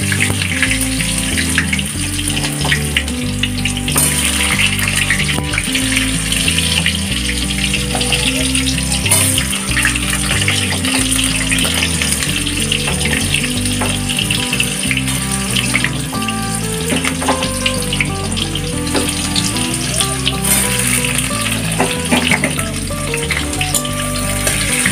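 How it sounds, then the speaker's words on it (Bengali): Potatoes fry in a pan with cumin seeds, giving a loud, constant sizzle and crackle that runs unbroken for the whole stretch, with no talking over it. "এবার আমি আলুগুলো হালকা ভেজে নেব,"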